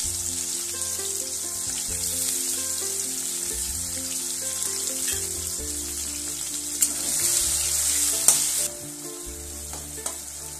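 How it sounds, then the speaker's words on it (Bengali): Two medium chopped onions frying in hot oil in a pan with lightly fried tomato for a Bengali mutton liver and potato curry, a steady close sizzle throughout with soft background music and occasional stirring clinks. "পেঁয়াজটা একটু লাল করে ভেজে নেব।"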